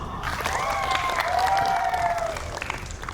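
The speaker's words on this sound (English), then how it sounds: "round of applause." An audience claps at a talk with a children's book and app author, a steady wash of clapping throughout with a tonal whistle-like sound rising and sliding beneath it in the middle.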